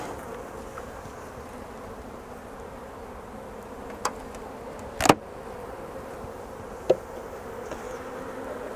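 Honey bees, shaken from a nuc box onto hive top bars at an apiary, drone in a continuous close buzzing swarm, with a few sharp knocks from the box breaking through and no talk.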